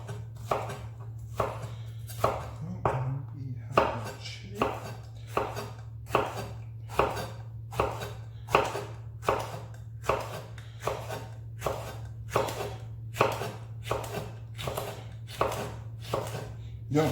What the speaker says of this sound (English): you can either cut these in slices or dices, completely down to you. I just prefer pieces because I am actually a big fan of onions